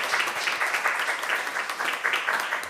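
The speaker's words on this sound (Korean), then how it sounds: "건강하시라고 한 박수 하겠습니다." A church congregation claps together during a Sunday worship service, a steady, dense patter of many hands at moderate distance lasting a few seconds, with no talk over it.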